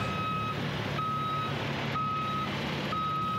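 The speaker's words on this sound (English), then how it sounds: "Got Andre Kursin just reversing slightly there to get moving and put himself in position with the rest of the trucks down the end of the pit lane" A racing truck reverses slightly in the pit lane during qualifying at the 2023 Poznań truck race. Its reversing alarm gives four steady electronic beeps, about one per second, over a continuous low engine rumble.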